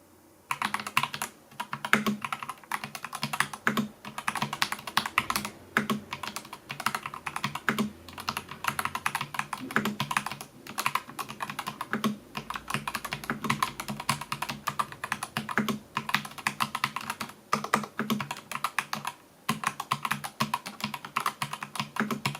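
Close-up typing on a ROYALAXE X ProtoArc R100 hot-swappable wireless mechanical keyboard with 4 mm travel switches, a continuous flurry of crisp key clacks in quick irregular bursts with brief gaps, heard alone without talk.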